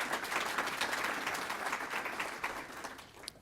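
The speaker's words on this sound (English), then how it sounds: "let's give them a round of applause" Audience applause at an academic talk on the Russian invasion of Ukraine: a continuous, moderately loud clatter of many hands, steady throughout and with no voices over it.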